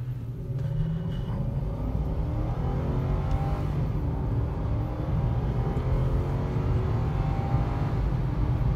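A couple of Honda Goldwing motorcycles pass on a Blue Ridge mountain road, heard from inside a Lexus LS 430. A continuous engine rumble carries rising and falling tones under the car's own steady drone.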